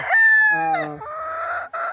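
A White General gamefowl rooster crows loudly and up close in a long drawn call, then breaks into a few short clucks at the end, with no talk over it.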